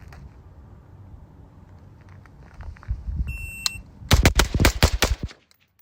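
Six rapid shots from a compact suppressed Radical Defense MK1 PDW fired in a quick string, loud and close. Each report is sharp and clipped, followed by a tight burst of cracks and then silence.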